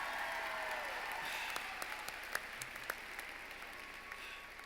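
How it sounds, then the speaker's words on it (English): Applause from a graduation ceremony audience at a 2024 high school commencement, a distant steady wash of clapping from a large crowd with a few sharper claps standing out near the end. "Let's give them another round of applause"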